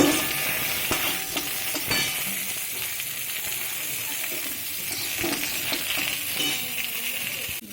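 Fennel seeds, nigella and carom seeds crackling and sizzling in hot oil in a kadai, with steady frying hiss and occasional stirring clinks from a utensil, close and continuous.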